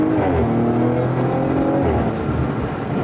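A 2019 Audi RS5's turbocharged V6 pulls hard under acceleration, its loud close engine note rising steadily and continuously with rising and falling harmonic sweeps as it revs through gears from inside the car.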